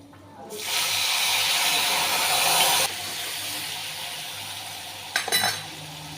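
Tamarind-soaked water poured into a hot tempering of reddened garlic, turmeric, chilli powder and coriander powder for a Maharashtrian spinach bhaji, bursting into a loud, steady sizzle for a few seconds before it settles into a quieter simmer, with a brief clatter of utensils near the end.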